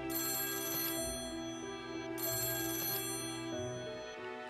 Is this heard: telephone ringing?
yes